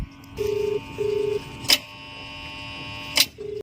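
A phone keypad sounds two steady dial tones in a row, then two sharp clicks spaced apart over a low hum, as a missed call switches off a water motor pump.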